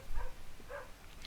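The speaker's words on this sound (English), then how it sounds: "Yes, that's a dog." A dog gives a few short, soft barks and whimpers at a distance, spaced unevenly over a quiet background.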